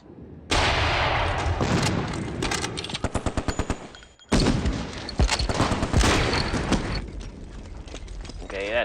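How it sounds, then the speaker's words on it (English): Gunfire from units in the strategy game Steel Panthers: World at War: loud bursts of rapid machine-gun fire and volleys of shots, a short pause, then another long stretch of heavy firing with a few sharp cracks. "that was more shots than I wanted"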